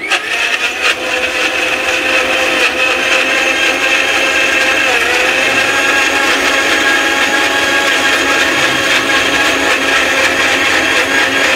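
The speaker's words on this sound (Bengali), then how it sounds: "দেখেন ভাই, আমরা কিন্তু কন্টিনিউয়াস ব্লেন্ডারটা চালাচ্ছি একদম।" A commercial blender runs continuously while grinding a paste, producing a loud, steady motor whine with a grinding roar that holds unbroken from start to finish, with no talking.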